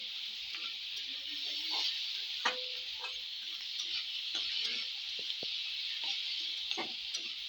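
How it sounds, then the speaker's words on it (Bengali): Turmeric, cumin and coriander powders fry in a pan for lentil chachchari, a soft steady sizzle with light ticking and a few metal spoon taps and scrapes as the spices are stirred, no speech. "হলুদ গুঁড়ো, জিরা গুঁড়ো, ধনে গুঁড়ো দিয়ে দিলাম। এখন লাল লাল করে ভেজে নেব।"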